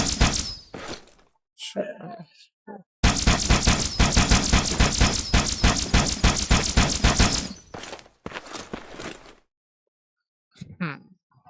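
Gunfire from a pistol-like weapon or SMG in the Halo video game: a rapid, loud burst of repeated shots lasting several seconds, with shorter bursts before and after and brief silent gaps.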